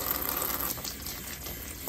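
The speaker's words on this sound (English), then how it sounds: "I have the sink set for like a lukewarm water." Lukewarm water runs from a sink tap in a steady, close rushing hiss that barely changes.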